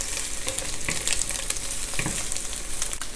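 Ham kimchi fried rice sizzles and crackles in a hot pan, a dense continuous frying hiss broken by occasional stirring scrapes, close and without voices.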